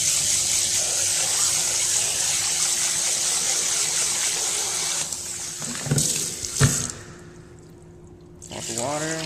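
Running tap water streams steadily into a sink while rinsing sushi rice, a constant splashing hiss, then a couple of knocks and the flow cutting off before water swirls again.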